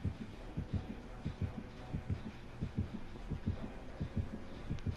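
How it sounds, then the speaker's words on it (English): Heartbeat warning from the Dead by Daylight survival horror game, signalling the killer Leatherface is close: a steady, strong, deep double-thump pulse repeating rapidly and evenly, loud and alone without speech. "I've got a really strong heartbeat."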